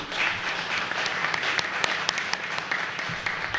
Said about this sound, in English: can we have again a round of applause for each one of our recipients?